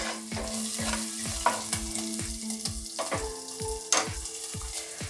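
Soaked basmati rice frying for jeera rice sizzles in a pan while a spoon stirs it in rhythmic strokes, bright scraping accents over a constant fry, close and clear with no talking.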